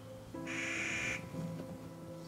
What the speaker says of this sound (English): That's just a bird.